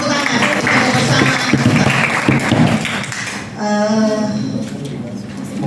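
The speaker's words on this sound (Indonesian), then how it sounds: "Tepuk tangan." An audience claps to close a three-day digital marketing training event in Alor Regency, with dense applause filling the first half before a voice begins speaking over fading claps.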